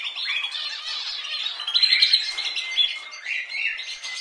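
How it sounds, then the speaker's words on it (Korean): Birds sing in spring: a busy mix of high chirps, squawks and tweets from several birds close by, continuous with no talking. "봄처녀가 새소리를 듣고 있습니다."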